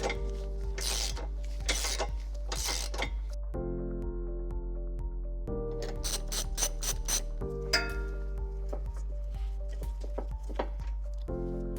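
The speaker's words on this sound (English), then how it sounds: "We're going to use a 3/4 socket and an extension to gain access from underneath." Ratchet with a 3/4 socket and extension working under a 2014-2023 Jeep Cherokee Trailhawk to remove a tow hook: rapid bursts of close, crisp clicking repeat in several runs over a low steady hum, with short pauses between strokes.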